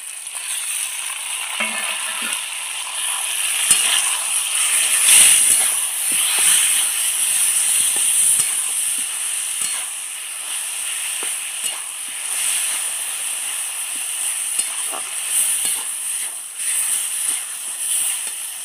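Roasted eggplant tipped into a pan of softened green tomatoes sets off a steady, bright sizzle, with scraping stirring strokes rising and falling over nearly twenty seconds of continuous frying.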